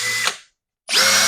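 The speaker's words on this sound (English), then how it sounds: "the Makita drill is far quieter than the Metabo drill" A Makita or Metabo cordless drill driver whirs loudly for about a quarter second, cuts out to silence, then spins up again and runs steadily to the end, loud and close with no talking.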